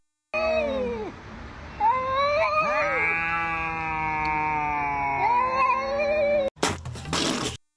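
A black cat lets out one long, drawn-out yowl that wavers, rises and falls in pitch for several seconds, loud and close, followed by a brief harsh noisy burst.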